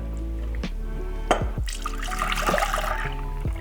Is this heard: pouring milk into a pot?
yes